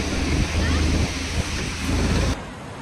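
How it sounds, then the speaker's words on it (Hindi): A mountain waterfall at Borjomi, Georgia, rushing as a steady, broad roar of falling water. The roar is loud and continuous and is mixed with outdoor wind noise on the microphone. "जो ये ऊपर से जो वाटरफॉल हो रहा है"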